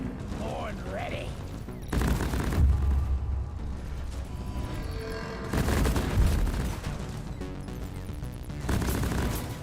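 Bursts of weapon fire from the co-op shooter Deep Rock Galactic, heavy rattling volleys in several loud clusters separated by brief lulls, with layered impacts and game effects.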